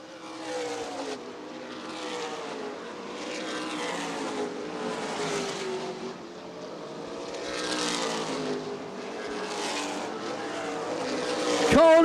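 Stock cars racing at Winchester Speedway in the ARCA/CRA Super Series World Stock Car Festival 100, engines roaring and rising as the field passes, loud and continuous, with a commentator talking over them.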